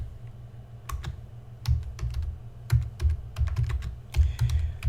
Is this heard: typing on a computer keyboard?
yes